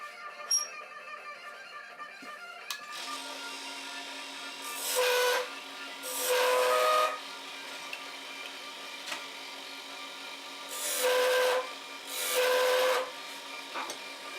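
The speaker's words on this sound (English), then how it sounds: "using a piece of melamine countertop, I'm going to burn those lines into the piece" A strip of melamine countertop pressed against turned wood on a lathe friction-burns decorative lines, giving four short raspy bursts over a steady motor hum.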